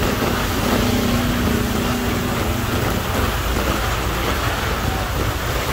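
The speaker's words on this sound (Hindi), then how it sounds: "हवाओं के साथ मौसलाधार बारिश" A dense, constant roar of heavy monsoon rain with gusting wind in Karachi, loud and unbroken throughout.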